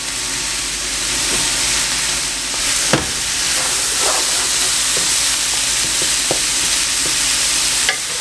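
Half a stick of butter melting in a pot on a burner, giving a steady close sizzle and hiss with a few sharp clicks and light knocks over the constant frying noise.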